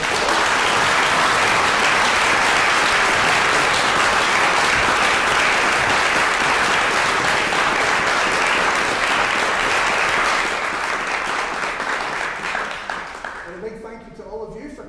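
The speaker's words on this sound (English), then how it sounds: "So let's give them a applause." Applause from an audience for two singers, Ruairidh and Sophie, fills the room as a loud, dense, steady roar of clapping that holds for a long stretch before thinning out and fading near the end.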